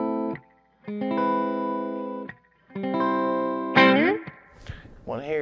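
A Wolfgang guitar on its middle pickup plays clean, sustained chords through an EVH 5150 Iconic amp, several strummed chords ringing out with short pauses, then a few sliding notes at the end.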